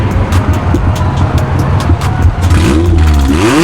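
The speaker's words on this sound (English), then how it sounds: "You can hear the chop from the cams right now." A loud Honda Civic idles with a choppy cam lope pulsing through the exhaust, then revs up sharply near the end, the engine note climbing and falling, close and dominant.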